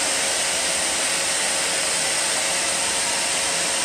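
A vacuum cleaner runs in a hotel room, giving a loud, steady, unbroken motor roar and airy whoosh that fills the whole stretch at an even level, with no voices.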